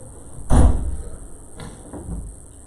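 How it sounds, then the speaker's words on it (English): An indoor door at an evening church Bible study gets pulled shut with one solid thud. A softer knock or latch click follows about a second later, then quiet room tone with no talking. "Can you close that door, please?"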